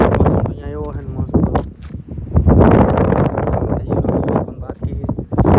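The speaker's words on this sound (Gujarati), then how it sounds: "અદભુત કુદરતનો નજારો, એકદમ ફૂલ પવન હો." Strong wind on a mountain buffets the microphone in loud, rumbling gusts while a person talks over it throughout.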